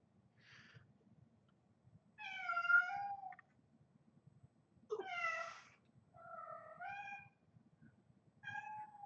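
A cat meows indoors in four or five separate, drawn-out, rising and falling calls spaced a second or two apart, fairly close and clear over a low background rumble, with no talking.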